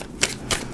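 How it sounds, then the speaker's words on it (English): A deck of tarot cards being shuffled, giving two or three quick crisp riffling bursts close by, with no voice. "Aries, 2 more shuffles."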